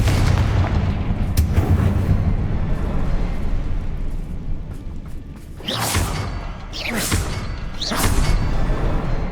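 A Confringo spell explosion in the video game Hogwarts Legacy booms out amid loud, rumbling battle noise, followed by several heavy blasts and thuds in quick succession.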